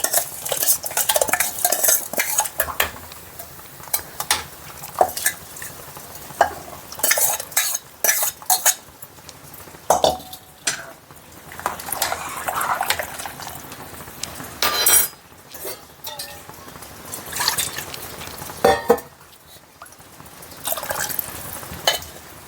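Khichdi tipped into boiling water in a cooking pot and stirred, with spoon scrapes and clinks against the metal repeating through the whole stretch, fairly close and without any talk.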